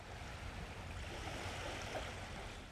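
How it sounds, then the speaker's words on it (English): A boat goes down a waterfall in the video game Human Fall Flat, with a continuous low rushing of water throughout, fairly quiet and steady with no voices. "Down the waterfall."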